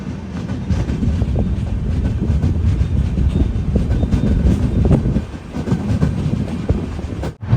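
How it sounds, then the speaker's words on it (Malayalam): The Venad Express runs at over 100 km/h, a loud sustained rumble with clickety-clack of the wheels and wind rushing past, ending in a sudden brief drop. "ട്രെയിൻ ഇപ്പം 100 km/h സ്പീഡിന് മുകളിൽ തന്നെയാണ് പോകുന്നത്"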